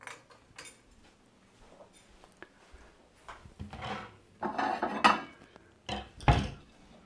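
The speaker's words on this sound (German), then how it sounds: "ich werde mir jetzt einen Teller holen" Plates and dishes clatter in a home kitchen as one is fetched, with scattered clinks and knocks that build into louder bursts of rattling crockery and cutlery near the end, close by and with no voices.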